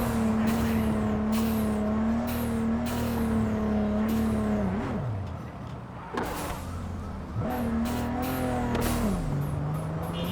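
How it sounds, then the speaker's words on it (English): Engine of a car in Cyberpunk 2077 droning steadily at a fairly constant pitch, with a couple of shifts and brief dips as it drives, some clicks and thumps on top; no talking. "Look at this car, it's such a goer."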